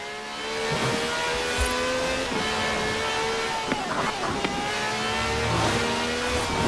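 V12 taxi engine with over 750 horsepower in the racing game Forza Horizon 4, revving and shifting with steady engine drone and rising pitch sweeps, brief tire noise, loud and close.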